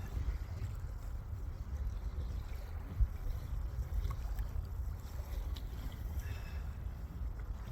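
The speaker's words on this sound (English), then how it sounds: "once the fish start hitting, the wind starts picking up." Wind gusts steadily across an open fishing boat on a chilly, rainy day, producing a low, rumbling buffet against the microphone with faint water sounds and a single small knock partway through.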